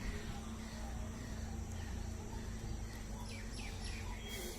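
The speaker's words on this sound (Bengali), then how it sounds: "এবারে এক ঝাঁক ককটেল পাখি দেখতে পাচ্ছেন এখানে" Faint, scattered chirps from a flock of cockatiels at a bird sale over a steady low background hum, fairly distant and continuous.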